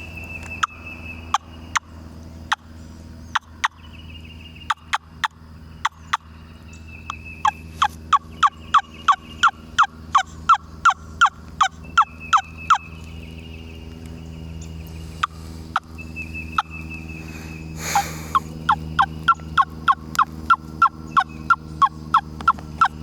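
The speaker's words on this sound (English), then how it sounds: "A little higher pitched than a gobbler wing bone, in my opinion" Sharp, high-pitched yelping clucks from a hen turkey wing bone call repeat in quick bursts and longer series, sounding close and fairly loud against a quiet background with no talking.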